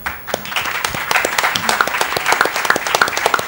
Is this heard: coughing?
no